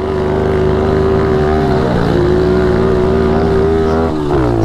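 A small motorcycle on a dirt trail holds a loud, close, buzzing engine note, with the pitch rising and dipping slightly as the throttle changes.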